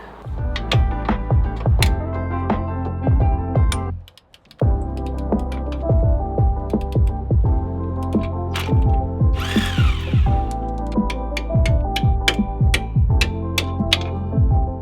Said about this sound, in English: We're using the 17mm socket to loosen the lower bolt for the shock.